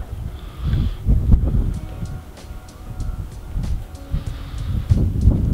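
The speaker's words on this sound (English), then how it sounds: "It is just brutally windy" Strong wind with light snow buffets the microphone outdoors in a continuous low roar, rising and falling in gusts throughout.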